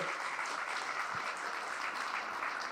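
A church congregation applauding during a healing and deliverance service, a soft, steady wash of many hands clapping from some distance.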